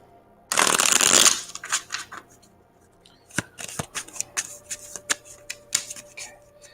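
A deck of cards shuffled close by: one loud riffle burst, then a string of light snaps and taps as the cards are squared and handled.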